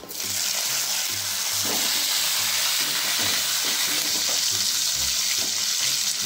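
Cut green chillies frying in hot oil with curry leaves in a pan, a steady loud sizzle with crackling pops throughout.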